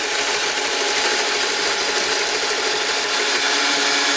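Stand mixer whirring as its bowl spins while oil is added to banana muffin batter, a loud constant mechanical drone with a steady rattling hum throughout and no voices.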